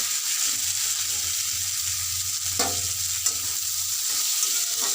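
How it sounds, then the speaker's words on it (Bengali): Neem leaves fry in oil in a wok with a loud, continuous close sizzle and crackle, joined by a brief stir or scrape near the middle. "নিম পাতাটা তো এইভাবে আমি ভেজে নেব"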